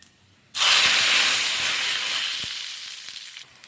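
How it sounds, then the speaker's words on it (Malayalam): Mustard seeds hit hot oil for tempering, a loud sudden burst of sizzling and hissing that starts abruptly and holds steady, slowly easing off over a few seconds with a faint pop or two. "ഇപ്പം നമുക്ക് കടുക് താളിക്കാം"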